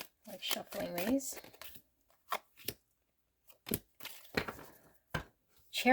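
Tarot cards are shuffled in a few short riffling bursts separated by quiet pauses, close and fairly soft.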